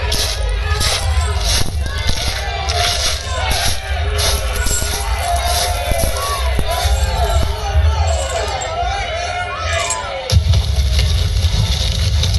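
A crowd in a staged skit keeps up a dense, loud clamour of shouting and babble, steady throughout, with a sharp swell near the end and no distinct words standing out.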